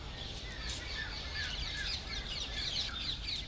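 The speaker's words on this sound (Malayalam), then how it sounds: "വൈകുന്നേരം വന്നപ്പോൾ എന്താ രസം നോക്കിയാൽ നല്ല കിളികളുടെ സൗണ്ടും കളകളാരവം." Birds chirp and twitter continuously in the evening at Sabarmati Ashram, many small overlapping calls at moderate distance over a constant background hum, with no voices.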